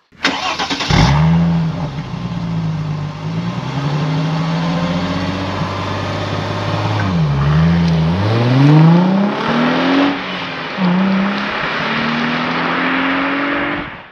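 A Nissan 350Z 3.5-litre V6 engine revs loudly and close, climbing in pitch as it accelerates through several gears, with brief dips between shifts.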